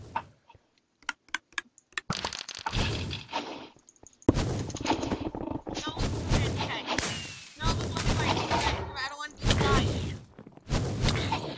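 In Minecraft Super Smash Mobs, an iron hook is fired amid sharp, gunshot-like cracks, starting as a few isolated snaps and then running into loud, dense bursts of game action.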